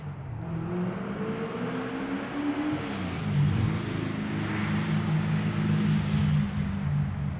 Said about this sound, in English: One of my neighbors, and I believe it's a 69 Camaro. Yeah, that sounds pretty good.